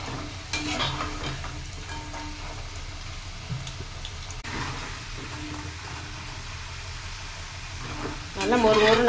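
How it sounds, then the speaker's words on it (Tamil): Steady broadband sizzle of potato French fries frying in hot oil, with occasional stirring clatter and a louder burst near the end. "எண்ணெய் காஞ்சிருச்சு. நம்ம போடுறதுக்கு ஆரம்பிக்கலாம்."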